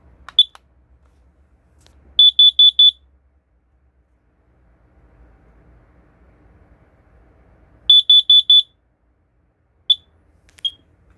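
A carbon dioxide alarm under test, a piercing electronic chirp in two quick bursts of four shrill beeps, separated by quiet, followed by a couple of single beeps.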